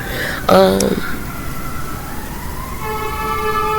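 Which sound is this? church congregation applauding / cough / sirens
sirens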